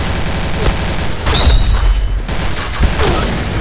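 Sniper rifle fire in the Point Blank shooter game gives heavy booming shots over a dense layer of game noise, with a few distinct loud reports spread across a few seconds.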